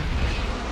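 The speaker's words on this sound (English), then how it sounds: "got hit by a missile" A loud, rumbling missile blast in a video game fills the brief moment, a dense booming explosion that sustains without a break.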